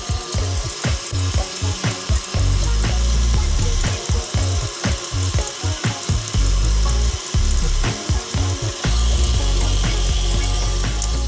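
An electric mixer fitted with a whisk beats Earl Grey tea cake batter, a loud, steady mechanical whir with a rapid, pulsing rhythm that runs throughout with no voices.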